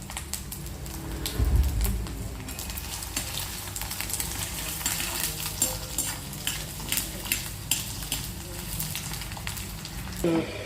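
Chopped ginger and perandai sauté in oil for a thovaiyal, a continuous close sizzle with frequent scraping stirs and light clinks of a utensil against the pan.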